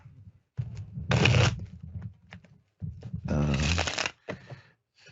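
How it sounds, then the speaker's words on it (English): Playing cards shuffled in two distinct bursts of riffling, close and fairly loud, separated by quieter handling noises and brief pauses. "just listening to me shuffle cards?"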